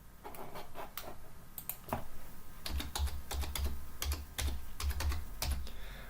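Rapid clicking keystrokes on a computer keyboard while typing into a search box, close and crisp in irregular bursts with short pauses, over a low background hum and faint music.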